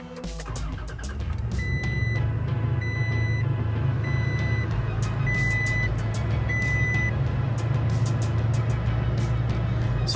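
A new truck's engine cranks and catches, then settles into a steady, close idle heard from inside the cab, while a series of evenly spaced electronic chimes or beeps sounds repeatedly over the running engine.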